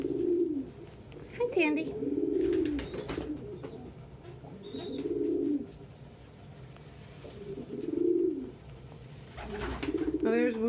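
Pet pigeons cooing as a male courts a female, repeated low throaty coos in bursts, close, with brief human speech and a few chirps in between.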